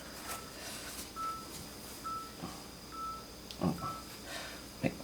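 A mobile phone gives several faint short electronic tones, spaced irregularly over a quiet room, with a few soft handling knocks and thumps nearby.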